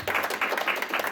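Convention panel audience clapping for Funimation, a brief burst of scattered hand claps at moderate distance, fairly soft.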